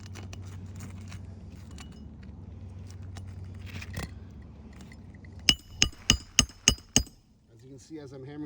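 A hammer drives nails into roof shingles in a quick burst of six or so sharp, close metallic strikes after a quieter stretch of handling noise and low background hum.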